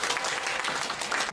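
Dense applause from an audience at a talk concert fills the whole moment, a continuous even wash of many hands clapping that cuts off abruptly at the end.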